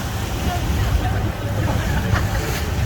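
A sailing boat moves across Lake Ontario with steady wind and water wash, a continuous low rumble of waves and breeze on the microphone throughout.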